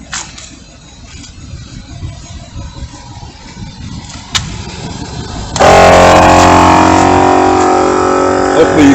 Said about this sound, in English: we're going to start the pump up and see how long it takes to get to 80 pounds